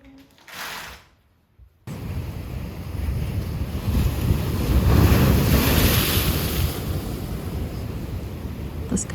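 Sea waves wash and roll under steady gusting wind at open water, a loud continuous roar with buffeting on the microphone, preceded by a brief quieter moment and a short break before the surf swells in.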